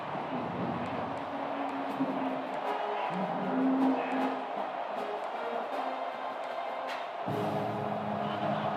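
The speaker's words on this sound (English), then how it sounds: "this crowd is fired up. Listen to this noise here" Crowd roaring in a college football stadium during Texas vs Ohio State, a loud sustained rumble of massed voices with shifting tones and swells, mixed with sharp bursts of noise.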